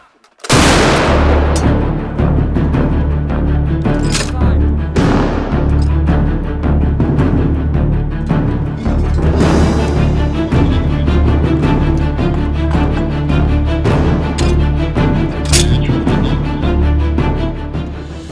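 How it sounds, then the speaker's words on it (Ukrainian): A heavy artillery blast opens with a loud boom, followed by sustained roaring rumble and scattered sharp cracks, very loud and close throughout. "біжимо до гармати, наводимось, доповідаємо і стріляємо"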